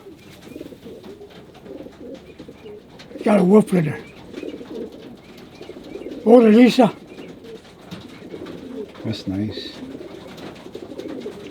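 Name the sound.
racing pigeons cooing in a loft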